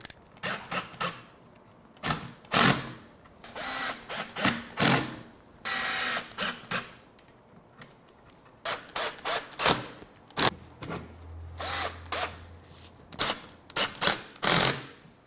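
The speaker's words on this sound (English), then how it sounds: "I'm just going to use some 1 1/4 inch square drive screws to put it in" Power driver sinking 1 1/4 inch square drive screws into a wooden table frame, repeated short whirring bursts in irregular clusters with pauses between, close and fairly loud.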